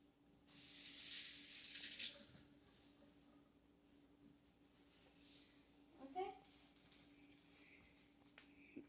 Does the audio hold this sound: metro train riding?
no